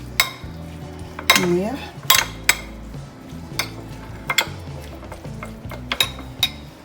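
Utensil clinking and scraping against a bowl while fish marinade with salt and a spoonful of oil is stirred together, with several sharp clinks spread across the clip and a brief spoken word.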